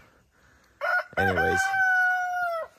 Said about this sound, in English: Okay, rooster.